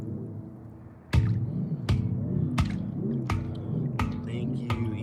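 A professional handpan dropped into river water gives off a series of about six sharp metallic strikes, each ringing with a wobbling, bending tone as the water moves the shell, spaced under a second apart and close by.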